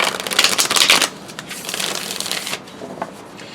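Tarot cards being shuffled in a reading, a dense riffling burst for about a second, then lighter continued shuffling and softer card flicks, close and with no talking.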